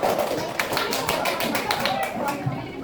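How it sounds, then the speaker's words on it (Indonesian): Students in a classroom clap for a peer-teaching group: scattered, uneven claps sound through the room beneath ongoing talk and chatter, fairly quiet and loosely rhythmic. "tepuk tangan buat kelompok"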